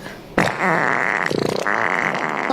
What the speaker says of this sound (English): It's a fart for you.